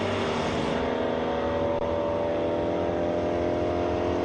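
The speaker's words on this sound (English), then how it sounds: "Thunder Valley Dragway. Marguson trying for that wheelie" A 1992 Ford Fox Body drag car launches down the strip at Thunder Valley Dragway during ET finals, a loud, sustained engine roar that holds steady and close for several seconds with no talk.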